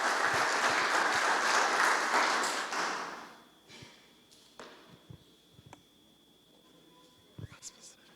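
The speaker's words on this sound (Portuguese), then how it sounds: "aplauda Jesus." Church congregation applauding during a worship service, a dense burst of clapping that fills the first three seconds then drops away to sparse taps, shuffling and faint room sounds.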